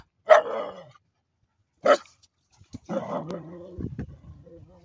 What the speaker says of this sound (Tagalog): Hindi, may aso dun